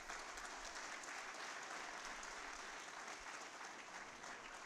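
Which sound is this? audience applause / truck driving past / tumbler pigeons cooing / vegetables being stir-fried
audience applause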